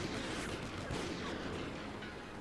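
Dense, steady barrage of overlapping gunshots in the video game Call of Duty: Ghosts, rumbling without pause, loud and continuous throughout.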